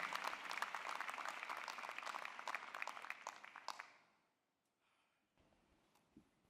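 A large audience applauds at a spring medical school commencement ceremony, a dense, steady burst of clapping that holds for about four seconds and then fades away into near silence.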